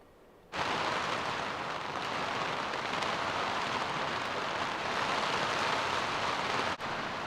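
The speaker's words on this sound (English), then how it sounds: "Started freaking dumping rain out of nowhere." Heavy rain starts abruptly and pours down steadily, a dense, loud hiss that continues without letting up.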